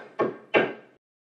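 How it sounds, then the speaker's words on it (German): Two firm knocks on a wooden inn door, close and distinct, followed by silence, as in a Christmas-story puppet play. "Josef klopfte an die erste Tür eines Gasthauses."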